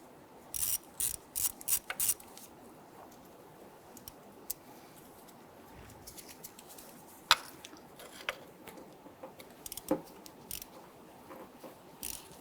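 A ratchet clicks in short, uneven bursts while fuel rail retaining bolts are removed from a Ford Mustang 3.8L V6. The sharp pawl clicks come close but fairly quiet, separated by pauses.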